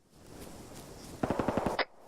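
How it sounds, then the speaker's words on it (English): A burst of about seven rapid gunshots, distant and moderately loud, cracks out in quick succession during a military patrol operation, over low ambient background noise. "Shots Gunfire, northwest."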